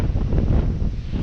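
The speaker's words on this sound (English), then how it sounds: "It suddenly got very windy" Steady gusty wind in Toronto's Cabbagetown and Corktown neighbourhoods buffets the microphone, a dense low rumble that stays loud throughout with no voices.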